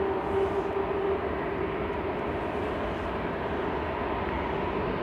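Steady engine roar of a Ryanair airliner departing Manchester Airport for Santander, a continuous broadband rumble with a faint tonal hum, fairly loud and unbroken throughout, no voices.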